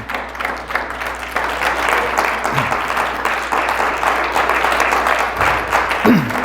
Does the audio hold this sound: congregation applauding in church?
yes